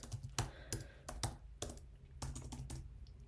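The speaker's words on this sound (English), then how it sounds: "So I'm just going to enter a password that I have chosen." Quick keystrokes on a computer keyboard type out a password, a burst of close, crisp taps in uneven clusters with short pauses, quiet and alone.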